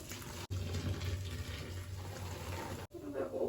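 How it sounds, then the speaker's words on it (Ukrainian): Boiling water pours from a kettle into a container holding dry powder at an outdoor picnic, a steady close hiss and gurgle of liquid running for about two and a half seconds with brief breaks. "Заливаємо кип'ятком його."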